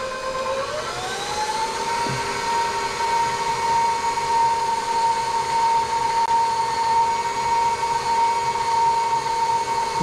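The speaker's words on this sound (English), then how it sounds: "we're gonna mix it first at low speed and then I'll turn it up" An electric stand mixer running at low speed through masa harina dough for sopes, a steady whirring motor hum with a faint high whine that rises slightly at the start and then holds constant, near and alone.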